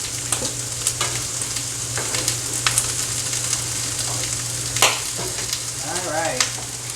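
Tomatoes and asparagus sizzle in a hot pan, a loud, close, continuous crackle and hiss broken by occasional stirring scrapes and clinks, with no one speaking over it.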